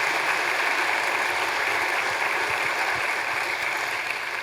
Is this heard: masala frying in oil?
no